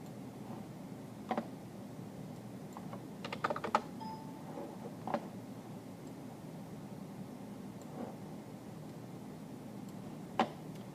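Sparse keystrokes on a computer keyboard, a few quick clusters of light clicks and scattered single taps over a steady low hiss, close and quiet, with no talk.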